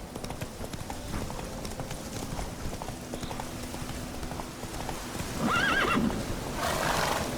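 Horse in The Witcher 3 game galloping with a steady rapid clip-clop of hooves under faint ambience, followed near the end by a short whinny and a louder snort, close and clear.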